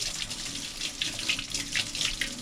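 Tap water runs steadily as old paint is rinsed from a mistreated paintbrush, a continuous close splashing hiss with small fluctuations and no voices.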